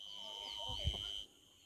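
Chickens at a poultry farm in Pauri Garhwal, Uttarakhand, give a brief burst of soft clucking close by before it drops away.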